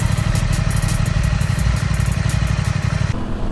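An Aprilia RS660 motorcycle engine, still in its break-in period, idling steadily up close with a rapid, even low-pitched throb and mechanical clatter, cutting off near the end.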